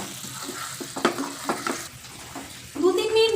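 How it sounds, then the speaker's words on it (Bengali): Honey being stirred in a pan over a low flame for mango chicken, with soft scraping strokes and a gentle sizzle that grows louder toward the end, close by. "এই মধুটা আমি একদম গ্যাসটাকে আমি একদম সিম করে এটাকে 2-3 মিনিট নাড়াচাড়া করব।"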